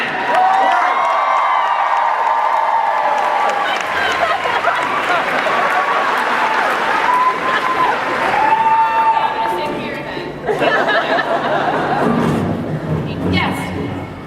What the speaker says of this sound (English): Yeah, you can clap. Yeah, you can scream.